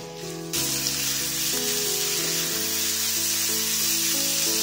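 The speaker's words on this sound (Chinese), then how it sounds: "倒入五花腩炒出油脂" Pork belly frying in a wok with a little oil gives a loud, continuous close sizzle that jumps up in the first half second and holds steady, with no talk.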